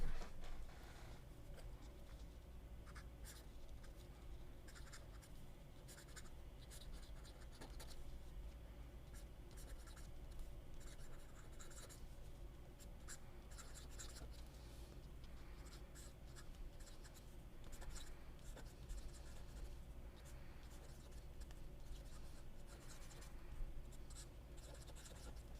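A fountain pen writes on paper swatches, making faint, quick scratching strokes in short bursts with small pauses in a quiet room.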